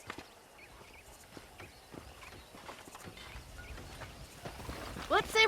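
Horses clip-clopping in the Western video game Red Dead Redemption, irregular hoof beats from several animals with a horse whinny near the end, under a low rumble of game ambience.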